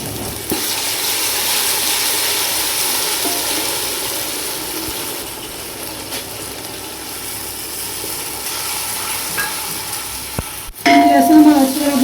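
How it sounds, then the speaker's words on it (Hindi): Garlic ginger paste sizzles in a pan with browned onions, a steady broad hiss of frying that jumps louder near the end as more goes into the hot oil. "अब इसमें डालूंगी मैं लहसुन अदरक का पेस्ट"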